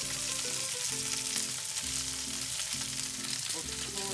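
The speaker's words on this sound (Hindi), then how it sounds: "इसको इस ऑयल में आपको फ्राई करना है" Okra fries in hot oil as part of a bhindi gosht dish, a steady close sizzle and crackle running throughout, with light stirring scrapes and no talking.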